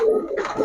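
A domestic pigeon from a fancy breeding loft gives a short, close coo, soft and throaty, with nothing else heard.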